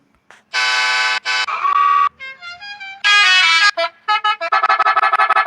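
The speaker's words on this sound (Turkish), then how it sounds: "Şimdi bir korna." A series of loud electronic truck horn blasts in varying tones, some long and some short, ending in rapid repeated toots.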